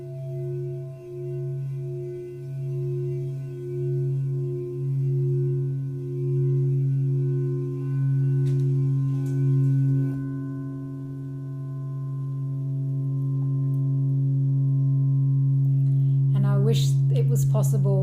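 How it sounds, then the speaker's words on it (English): A crystal singing bowl is sounded around its rim, producing a sustained, pure ringing tone that pulses gently as it is rubbed, then holds and fades before a brief clatter of handling at the end. "you can sound them like around the rim"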